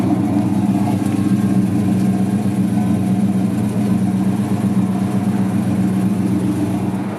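Rear exhaust of a 1968 Pontiac GTO idles with a steady, deep, rumbling burble heard close and loud throughout, without a break.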